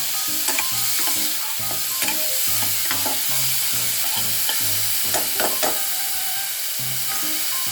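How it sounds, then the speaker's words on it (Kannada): Chopped onion frying in hot oil with mustard seeds and cumin for gobi paratha filling, a continuous close sizzle with frequent spatula scrapes and clicks against the pan, loud and steady throughout. "ಈಗ ಇದಕ್ಕೆ ನಾನು ಇದನ್ನು ಹೆಚ್ಚಿಟ್ಕೊಂಡಿದ್ದು ಈರುಳ್ಳಿ ಹಾಕ್ತಾಯಿದ್ದೀನಿ."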